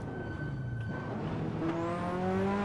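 A car in the Assetto Corsa racing game drops down through the gears on a highway run, the engine note rising in pitch after each shift with a continuous drone throughout.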